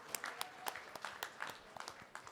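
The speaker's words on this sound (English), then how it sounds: "I'm going to give you an applause for intent." A small audience at a civil rights awards event gives sparse, scattered applause, distinct individual claps at a moderate distance, fairly quiet overall.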